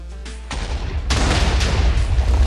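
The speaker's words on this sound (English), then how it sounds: "Then you fire the cannons." Ship cannons in a naval video game fire in a few heavy booming volleys that land in quick succession, loud and close, with rumbling tails and no voices.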